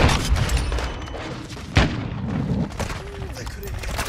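Gunfire from the video game Modern Warfare 2, a dense stretch of shots and booms with one sharp loud report near the middle, heard under a continuous noisy game mix.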